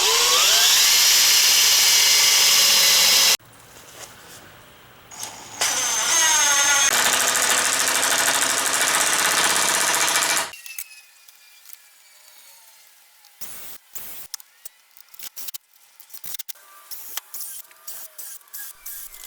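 Screws are power-driven into a maple dining table frame, with loud sustained whirring bursts of a drill-driver in the first half and then shorter intermittent clicks and handling noises.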